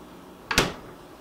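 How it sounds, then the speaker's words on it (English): A refrigerator door swings shut by itself after being leveled, landing in a single soft double-thump close, brief and moderately near against a quiet room. "Slightly back, so the door goes closed on its own."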